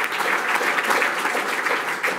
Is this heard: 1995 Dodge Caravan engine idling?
no